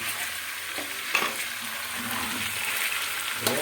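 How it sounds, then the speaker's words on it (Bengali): Garlic dropped into hot oil in a pan with mutton for biryani, a steady close frying hiss with a few sharper crackles and stirring knocks throughout. "এরপর আমি রসুনটা দিয়ে দিচ্ছি তেলের মধ্যে"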